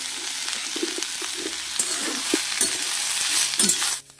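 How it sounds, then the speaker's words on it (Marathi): Onion frying in a pan in a home kitchen, steady bright sizzle with intermittent scraping and clinking of a spatula stirring, close and loud, ending abruptly. "तर कांदा बघा झाला भाजून."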